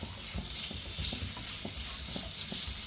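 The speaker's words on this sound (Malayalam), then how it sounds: "ഇനി ഇതിലേക്ക് നമുക്ക് മുറിച്ചെടുത്ത സവാള ഇട്ട് കൊടുക്കട്ടെ" Sliced onions sizzle in oil for an okra and peanut stir fry. A steady frying hiss runs throughout, broken by quick, regular spatula stirs and taps against the pan, close and moderately quiet.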